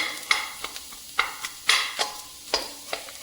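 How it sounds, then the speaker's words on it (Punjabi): Cumin and coriander seeds dry-roast over a low flame, stirred with repeated sharp scraping strokes against the pan and a faint sizzle, the scrapes coming in an uneven rhythm about every half second. "ਆਪਾਂ ਘੱਟ ਸੇਕ ਦੇ ਉੱਪਰ ਹੀ ਭੁੰਨਾਂਗੇ ਇਹਨੂੰ ਹਲਾਉਂਦੇ ਰਹਿਣਾ ਕਿਉਂਕਿ ਥਲੇ ਜੋ ਜੀਰਾ ਤੇ ਧਨੀਆ ਉਹ ਜ਼ਿਆਦਾ ਨਾ ਸੜ ਜੇ"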